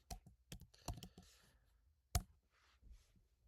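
Rapid, close keystrokes on a computer keyboard typing a short entry into a licence application website, a burst of clicks then a sharper final tap, with little else around it.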